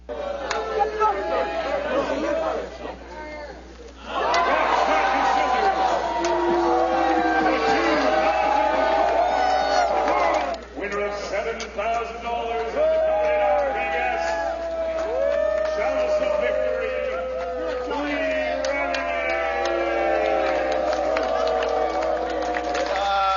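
A large crowd at a match in Canada roars and jeers at the champion, a loud, sustained wash of many voices with swelling shouts and brief lulls, carrying on throughout.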